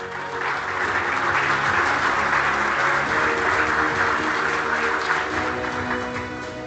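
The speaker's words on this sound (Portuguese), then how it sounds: "chamo por favor ao palco Ramsés Garrota, um aplauso" A seated audience at an award ceremony during a safety conference claps steadily and loudly, a dense, continuous wash of applause that swells slightly and then tapers off near the end.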